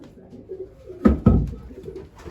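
Racing pigeons coo inside a loft, giving a soft, low murmuring call with two louder throaty pulses in the middle, close by and with no one talking.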